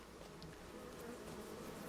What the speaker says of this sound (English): Check the bees